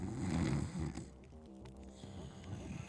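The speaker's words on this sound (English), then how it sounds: "I can't hear the music because that guy's snoring." Snoring from a sleeping guard character in the stealth video game Thief, a steady low rasping breath that dominates the first second, then continues softer beneath game music with sustained tones.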